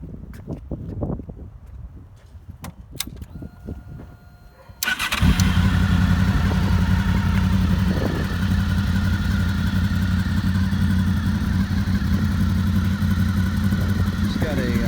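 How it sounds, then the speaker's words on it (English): A Berkeley restomod car with a Two Brothers exhaust is started after a few clicks and bumps. The engine catches and then runs at a loud, steady idle close by. There is no talk over the running engine. "Okay, let's fire it up, see how she sounds."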